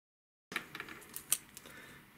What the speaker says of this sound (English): I'll cut this up into four pieces